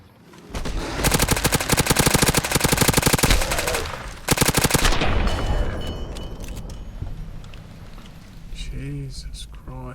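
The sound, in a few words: gunfire in the video game Fallout New Vegas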